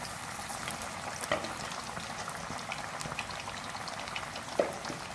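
Spicy chicken pieces frying in hot oil over a medium flame, a steady dense crackle and bubble throughout with a few sharper pops, close and continuous with no talk.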